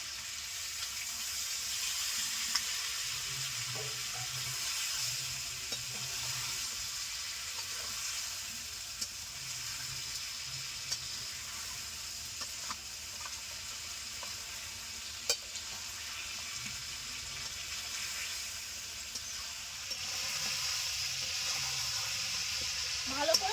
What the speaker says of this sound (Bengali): এখন সামান্য একটু জল দিয়ে আর একটু সময় কষে নেব